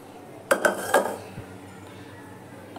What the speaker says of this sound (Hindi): उसके बाद मैं बर्तन धो के रखूँगी डब्बा सब।